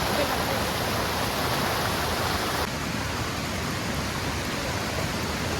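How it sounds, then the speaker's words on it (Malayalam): Water rushes over the top of a forest waterfall in a dense, continuous roar that stays loud and even throughout, with no other sounds standing out. "ഇതാണ് വെള്ളച്ചാട്ടത്തിൻ്റെ മുകൾ ഭാഗം. ഇവിടെ നിന്നാണ് വെള്ളം ഒഴുകി വരുന്നത്"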